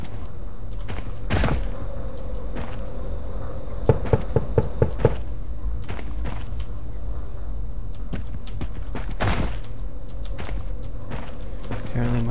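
Loud knocking in the indie horror game Paranormal, version 8.1: a quick cluster of sharp raps in the middle, with scattered single knocks before and after over a low background drone, and a voice talking at times.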